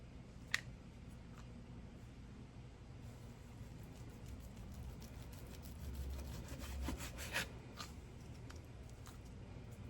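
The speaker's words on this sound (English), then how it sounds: "So we cut it thin slices, just like so." A sharp knife slices steak into thin strips, quiet repeated rasping strokes with faint taps against the board, growing a little louder near the end, with no talking.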